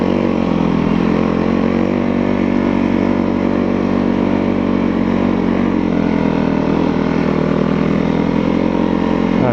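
A vehicle climbs a gravel road with a steady, loud, close engine drone throughout; individual rock strikes are not distinct.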